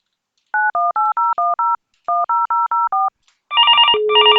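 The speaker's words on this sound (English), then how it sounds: "the call is ringing here on the IP phone, as well as you see here, the call is ringing on the Teams as well" Call ringing through on a Cisco CUCM IP phone and Microsoft Teams: two quick bursts of clear, loud push-button dial tones, a short pause, then a steady electronic ring tone starting up.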